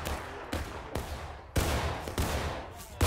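Musket volleys boom in the American Civil War video game War of Rights, several shots spread across the scene, some near and heavy, others more distant, in an irregular battlefield rhythm.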